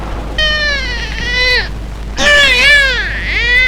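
A newborn baby boy, born in 1915 in the small town of Badnagar in Ujjain district, cries in two loud, wavering wails with a short pause between them, close and clear.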